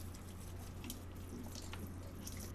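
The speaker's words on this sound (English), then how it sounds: "I have to water this Thai constellation probably every 3 days" Water runs steadily from a container into the pot of a Thai Constellation plant, a continuous close hiss and trickle with no talk.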